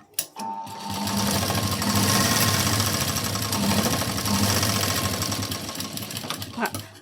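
A sewing machine runs at a fast, steady clatter for several seconds, close up, stitching a tuck in a blouse, starting and stopping with a short mechanical thump.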